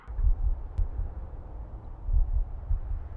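A muffled heartbeat in pitch blackness, amid dim sounds of a struggle: low, soft thuds repeating in an irregular pulse under a dull hum, with no voices.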